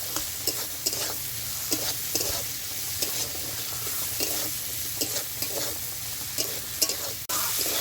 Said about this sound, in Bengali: পেঁয়াজ আর চিংড়ি ভালো লাল লাল ভাজা হয়ে গেছে